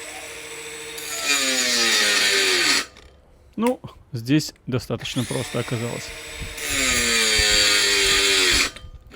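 A high-pitched DeWALT Atomic cordless mini angle grinder grinds loudly under load, stops while someone talks briefly, then starts grinding again.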